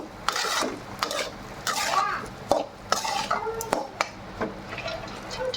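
Chicken being stirred in a pan, with irregular scraping and clinking strokes of a spoon against the metal over a faint sizzle, close and fairly loud; a voice speaks briefly.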